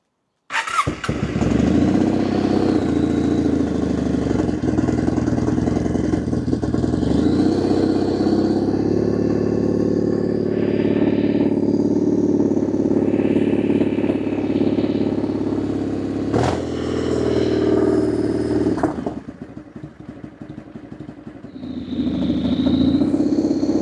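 Kawasaki W650 scrambler motorcycle with its choke pulled out starts up and runs loudly for about twenty seconds, a steady close parallel-twin rumble with a brief dip and blip of revs near the end.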